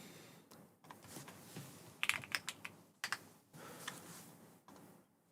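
Keys clatter on a computer keyboard in quick irregular bursts of taps and a few sharper clicks, close and fairly quiet, with no talking.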